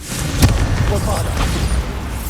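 A Bombarda blasting spell goes off in Hogwarts Legacy, a single loud boom with a sharp onset early on, then a rumbling tail over busy game ambience, with a voice speaking.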